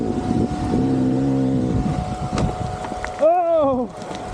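A GasGas enduro motorcycle in snow on a winter ride, its engine droning steadily and then giving a short rising-and-falling rev near the end, with people talking nearby and wind noise throughout.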